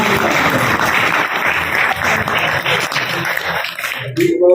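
An audience applauding at a Punjabi cultural event, dense sustained clapping from many hands that fades toward the end before a voice begins.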